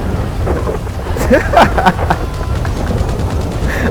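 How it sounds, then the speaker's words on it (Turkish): Storm-mode weather in GTA 5 fills the scene with steady rain and a rolling crack of thunder in the middle, loud and close, with no talk. "Bakın şimdi fırtına modunu çalıştırıyorum."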